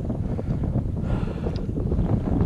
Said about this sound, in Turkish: daha acayip rüzgarlı ve sanki fırtına geliyor gibi